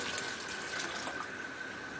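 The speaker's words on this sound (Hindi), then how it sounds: "ये बीफ का जो स्टॉक बनाया था, जो यखनी हम लोगों ने प्रेशर कुकर में किया है, ये भी हम ऐड कर देंगे" Beef stock (yakhni), made in a pressure cooker, is poured into a pot of thickening Kashmiri hareesa, making a steady, close liquid splashing and gushing sound that lasts about two seconds without a break.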